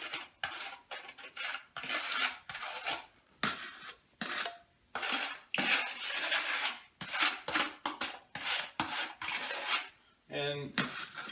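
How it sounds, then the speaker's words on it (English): Scraping epoxy grout hardener out of its plastic container with a tool, giving close, repeated rasping scrapes in quick bursts, with a brief rattle near the end. "I'm going to do a really good job of scraping this out."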